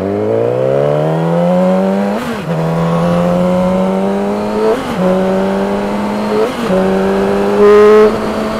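A 600cc sportbike engine revving hard past 7,000 RPM, a loud close whine climbing steadily in pitch, with three brief dips as it shifts up through the gears.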